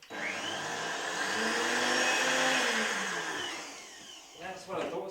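A blender running steadily on a frozen drink, a loud whirring roar that rises in pitch as it spins up, holds for a few seconds, then cuts off as voices speak.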